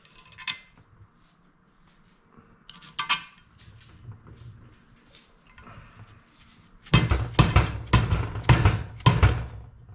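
A new ball joint is hammered through the control arm of a C20 truck. Scattered light metallic taps and clinks come first, then a rapid run of about half a dozen hard, ringing hammer blows close by.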